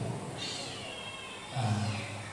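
A cat meows in two drawn-out calls at close range, the second lower and louder, over faint background noise with no clear talk.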